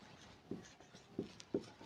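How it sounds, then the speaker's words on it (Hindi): Writing on a board in a classroom, faint and close: a few soft strokes and taps, three sharper ones near the end, with no talking. "तो अब इसे ये लिख लेते हैं"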